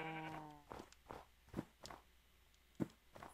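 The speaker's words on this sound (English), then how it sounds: "Sheep everywhere." Sheep in the Minecraft video game bleat in short, separate calls spaced irregularly, with soft footstep-like taps between them after a brief tone at the start.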